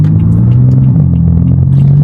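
A tuned BMW M4 F82 rumbles while driving, its engine a loud, deep, continuous drone with a slight pitch shift midway, close and alone without talk.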